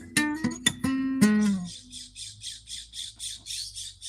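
A bird close by gives several loud, harsh squawks in quick succession, followed by a steady run of softer rhythmic pulses.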